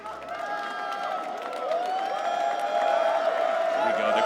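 A loud, steady crowd roars and chants in an arena during the Evo 2025 Granblue Fantasy Versus: Rising grand final, with a sustained tonal hum underneath and the noise swelling toward the end.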